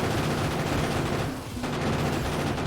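Dense, continuous automatic gunfire from gun turrets shooting at biters in Factorio, loud and unbroken apart from a brief dip midway.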